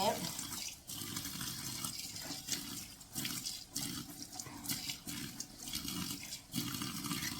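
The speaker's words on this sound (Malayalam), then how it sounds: "ഇടയ്ക്ക് ഒന്ന് കഴുകട്ടെ കഴുകിയിട്ട് പിന്നെ" Tap water runs steadily into a sink while fish is washed for cooking, a continuous close splashing rush with small fluctuations, and someone talks over it.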